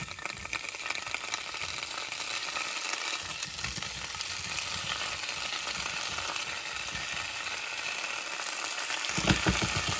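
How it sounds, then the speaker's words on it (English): Ham sizzling and charring in a hot pan gives a steady, close frying hiss for the full ten seconds, with a few brief scraping clicks near the end and no talk. "with the ham, you want to get a nice char on them"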